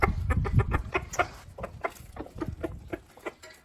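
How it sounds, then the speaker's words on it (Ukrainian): Several naked neck chickens cluck and squawk close by in a busy, overlapping chorus with no talking. "Може бути це голі кури."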